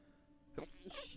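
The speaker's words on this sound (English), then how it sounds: "had to do a sneeze there" A short, sharp burst partway through, followed by a breathy, noisy exhale, fairly quiet against a soft background hum.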